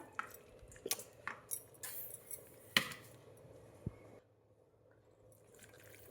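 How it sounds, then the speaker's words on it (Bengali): Chicken pieces being washed in hot water, with splashing, clinking and chopping-like knocks in irregular bursts up close, ending in a quieter stretch with a single faint knock. "পরিষ্কার করে নিচ্ছি গরম জলে।"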